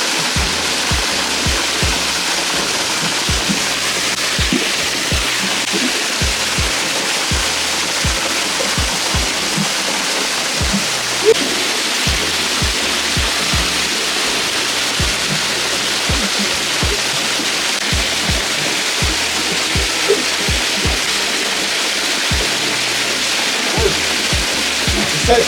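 Water poured through a Grayl GeoPress titanium purifier filter, a continuous close rushing, splashing stream with small irregular drips and gurgles, steady and fairly loud throughout.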